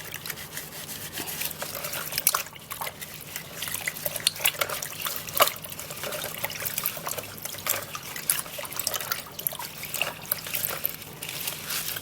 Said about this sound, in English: I'm going to be plucking this into the water, and I would love to sanitize it by washing it